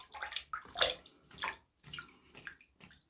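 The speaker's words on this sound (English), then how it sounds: "just rinsing the fingertips off now" Water splashes and trickles briefly as fingertips are rinsed off, likely at a sink, in several short uneven bursts close to the microphone with no talking.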